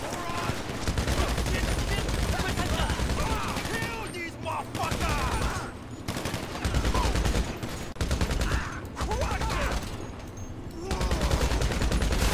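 Heavy GTA 5 Online gunfire rattles in dense, continuous volleys, loud and close, with brief pauses between bursts and voices talking underneath.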